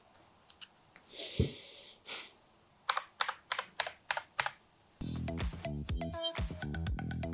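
Key presses on a Logitech G Pro X TKL, a compact tenkeyless wireless gaming keyboard: a few scattered taps, then a run of crisp, evenly spaced clacks, followed by quicker typing over a steady musical backing.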